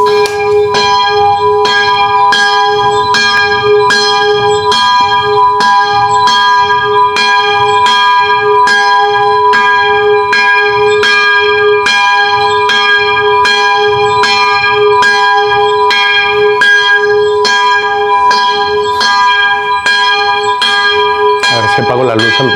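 A church bell tolling at 6 a.m. in Austria, loud and close with regular evenly spaced strokes and long ringing overtones that overlap, continuing steadily throughout.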